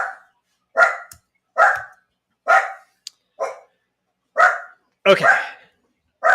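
A dog barks excitedly indoors, about eight sharp, loud barks in an uneven series with short silent gaps, and a person briefly speaks once.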